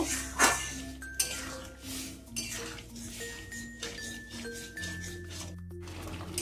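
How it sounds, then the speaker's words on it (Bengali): Utensil clinks against a pan while moong dal is stirred into a spinach mixture, with several sharp metallic taps over a steady low background hum. "মুগ ডালটাকে দিয়ে এটাকে ভালো করে মিশিয়ে নেব"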